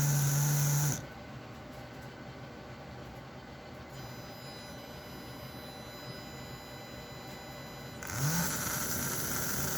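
A model train with a Next Gen S motor running under wireless control hums steadily and quietly for several seconds, bracketed by louder bursts of noise at the start and end, with no talking.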